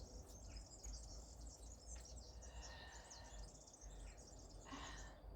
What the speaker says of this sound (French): Vous les écoutez les oiseaux là?